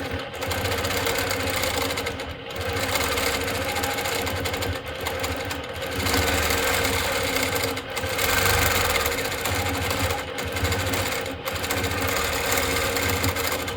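A longarm quilting machine stitching feathered patterns on a quilt, running in a fast, steady mechanical chatter with brief pauses and speed changes, close and loud with no talking.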